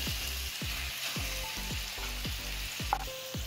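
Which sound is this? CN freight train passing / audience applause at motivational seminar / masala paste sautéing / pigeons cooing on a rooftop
masala paste sautéing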